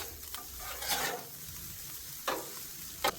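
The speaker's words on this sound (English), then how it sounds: "I'm going to start mixing. Trying to break up any chunks on this rice right" Rice frying on a Blackstone griddle for shrimp fried rice with scallops and lobster, a soft, low sizzle broken by a few quick spatula scrapes as the clumps are broken up.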